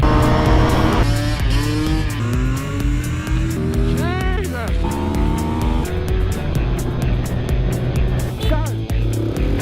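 A Ducati Multistrada Enduro motorcycle engine revs hard at full power off-road, rising and falling in pitch through gear changes, loud and close, with a rider's voice occasionally over it.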